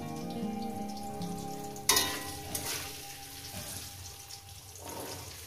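Salted potatoes fry in a pan with a steady close sizzle, broken by a sharp clatter and a burst of louder crackling as the pieces are stirred, then settling back to an even hiss.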